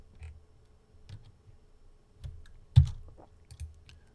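Computer mouse clicks and light keyboard taps at a desk during drafting software work, a handful of soft, sparse clicks spread out with a firmer click near the middle, close and quiet.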